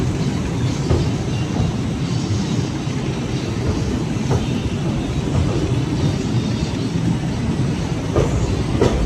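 A passenger train running from Rameswaram to Madurai rumbles steadily across the Pamban Bridge, a loud, continuous roar with faint rhythmic clicks of the wheels and no voices.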